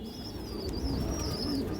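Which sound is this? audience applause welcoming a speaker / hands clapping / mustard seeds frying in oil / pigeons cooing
pigeons cooing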